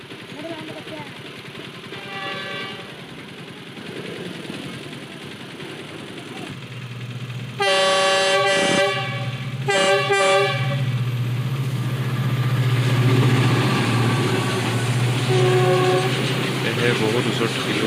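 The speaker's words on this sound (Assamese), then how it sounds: "বহুত দেৰি ৰখাৰ পিছত ট্ৰেইনখনো আহি পালে" A train arrives at a station near Dhubri, its rumble building steadily while the horn blasts several loud tonal hoots, first distant then close in repeated bursts, wheels clattering underneath.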